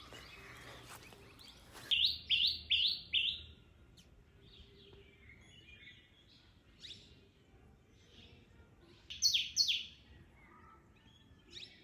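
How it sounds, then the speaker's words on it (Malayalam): Birds chirp outdoors in short bright bursts, a quick series of calls, a few softer tweets in between, then another rapid cluster against a quiet background. "കിളികളുടെ ഒച്ച കേട്ടോ"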